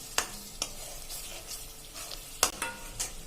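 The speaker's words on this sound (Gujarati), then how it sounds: "1 મિનિટ આપણે આને તેલ છૂટું પડે ત્યાં સુધી આપણે એને મસાલાને સાંતળશું તેલમાં જ" Masala sautéing in oil over a medium flame for a Kathiyawadi whole-onion curry: a soft continuous sizzle with a few sharp scraping stirs of a spoon against the pan, close and fairly quiet.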